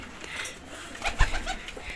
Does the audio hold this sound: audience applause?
no